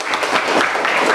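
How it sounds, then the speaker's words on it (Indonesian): A classroom group applauds a classmate with dense, steady clapping that fills the whole short stretch with no pauses. "kita berikan tepuk tangan yang baik untuk teman kita"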